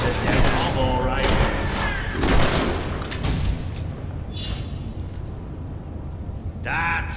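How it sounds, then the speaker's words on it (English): Gunfire in the Fable 3 video game: a rapid series of loud cracking shots and booms through the first few seconds, thinning out, with voices speaking over the shooting. "Shooting them from a distance is a good idea."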